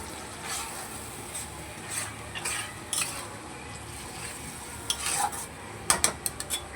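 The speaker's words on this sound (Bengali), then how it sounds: "দিয়ে দেবো আমি যে টমেটো পেস্ট করে রেখেছি সেই টমেটো পেস্ট ব্যাস সমস্ত মশলাগুলোকে খুব ভালো করে এবার কষিয়ে নেব" A utensil stirs and scrapes spices with tomato paste in a pan for a chicken dish: irregular clinks and scraping strokes, quiet overall, with a cluster of sharper metallic taps toward the end.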